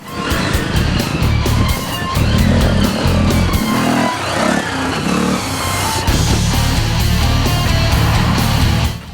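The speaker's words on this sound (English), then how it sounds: "The 44 bike did well to stay on there as he passes the slower bike on the hill." Military Harley Davidson MT350 motorcycles race up a hill, engines snarling loud and close with rising and falling revs, a rough continuous roar as one bike passes a slower one.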